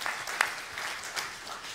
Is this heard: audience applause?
yes